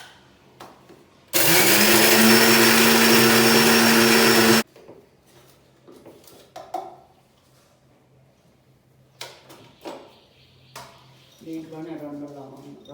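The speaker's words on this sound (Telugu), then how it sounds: "పల్లీలు నువ్వులు మిక్సీకి వేసుకోవాలండి." Peanuts and sesame seeds ground in a mixer grinder in one loud, steady whirring burst of about three seconds, followed by quieter kitchen knocks, clatter and a voice.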